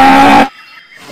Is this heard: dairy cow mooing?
yes